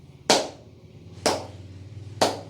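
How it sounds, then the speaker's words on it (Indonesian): Three single hand claps, evenly spaced about a second apart, sharp and close in a quiet room with no talking. "Lalu ada juga tepukan."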